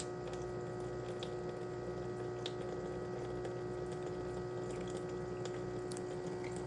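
A steady, low pump hum drones continuously as a baby bottle washer drains water, with faint gurgling and occasional small clicks, fairly quiet and unchanging throughout.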